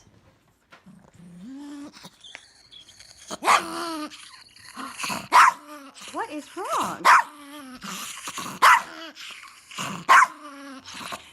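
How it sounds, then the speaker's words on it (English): A dog barks repeatedly in sharp bursts, mixed with growls and whimpering whines, while a person speaks briefly nearby. "Look at this video. There will be barking."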